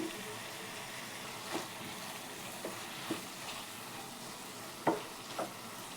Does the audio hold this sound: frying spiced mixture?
yes